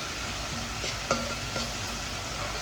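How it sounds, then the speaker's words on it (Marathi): Onion and finely chopped tomato sauté in a pan over a low flame, a steady soft sizzle running throughout, with a few quiet stirring clinks and scrapes close by. "गॅस आपली मंदच आहे त्याच्यावरच आपल्याला हे छान असं परतवून घ्यायचं आहे"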